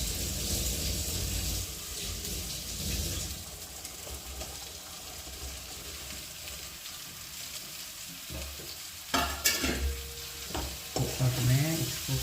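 Carrots and beans being stirred in a pan, soft scraping and light sizzling that stays quiet throughout, with a few louder clanks of the spoon against the pan near the end.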